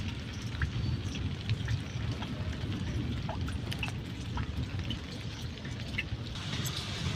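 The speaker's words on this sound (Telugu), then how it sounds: "వాన అయితే బాగా కొట్టింది" Heavy rain pours down in a village, a dense, steady hiss of drops drumming on surfaces with no pauses, with scattered sharper drips standing out above the wash and no voices.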